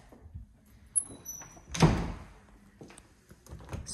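An indoor linen closet door in a rental apartment with hardwood floors opens with a clear mid-clip thunk and a brief slide, preceded by a light click and followed by softer handling noises, with no talking.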